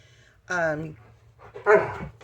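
A dog barks twice, loud and close, with short harmonic yelps separated by a brief pause, indoors by a door.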